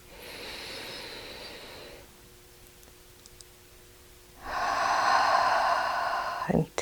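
A slow, deep breath, drawn in steadily and released in a soft, breathy hiss, close and quiet with a faint tonal hum in the background.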